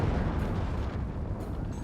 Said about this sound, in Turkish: Top ateş et top top top ateş et.